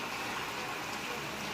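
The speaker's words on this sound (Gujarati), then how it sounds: "તાપી જિલ્લામાં પડેલા વરસાદથી જળબંબાકાર" Heavy monsoon rain in Tapi district pours down as a continuous, dense broadband hiss, steady and loud throughout with no distinct drops or voices.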